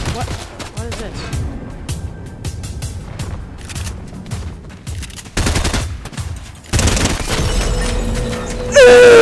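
Rapid gunfire crackles in Fortnite, dense bursts of shots and booms stacking up loud and close, with a louder barrage near the end and no talking.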